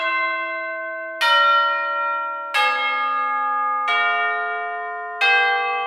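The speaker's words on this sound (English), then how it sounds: "This chime thing has been in my template since like the very beginning of my career." Orchestral chimes from the London Orchestral Percussion sample library ring out in five evenly spaced tubular bell strikes, each bright and loud, with long sustained decay overlapping the next hit.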